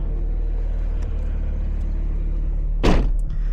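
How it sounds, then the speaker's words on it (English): A car rolls along on Continental DWS 06+ tires, a steady low road rumble filling the cabin, with a brief louder whoosh or bump near the end. "Go for a drive on the Continental, shall we?"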